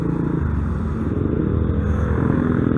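Honda NCB150R motorcycle running while gears are shifted up and down, a loud close engine rumble with steady pulsing and slight shifts in pitch, no talking.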